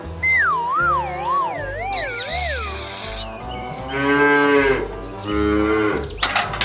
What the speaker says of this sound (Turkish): inek kaçtı